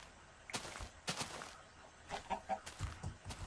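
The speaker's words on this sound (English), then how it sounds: "Oh, oh, there's one. There is a chicken." Chicken clucking in the Minecraft IndustrialCraft video game, a few short soft clucks in a broken rhythm heard alone at moderate volume.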